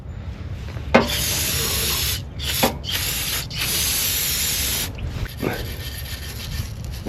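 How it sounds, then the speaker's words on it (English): Short hissing bursts of a spray can aimed at a solid aluminum engine surface during a water pump job on a Dodge Ram 2500 5.7L Hemi, several sprays separated by brief pauses and light scrapes. "Give it a little low spray."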